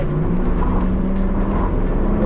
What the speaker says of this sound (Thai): ลองอัตาเร่งดูหน่อย